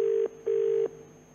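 On a phone call being placed, two long steady electronic tones sound close and loud, separated by a short gap, then the line goes quiet.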